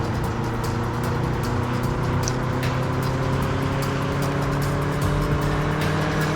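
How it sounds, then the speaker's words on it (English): Engine roar of cars racing in the Transformers: Revenge of the Fallen video game, a loud continuous drone with shifting revving tones and occasional tire squeal, with no talking over it. "still got the nice car sounds"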